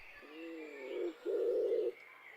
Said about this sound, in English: Wood pigeons are the UK's largest and most common type of pigeon.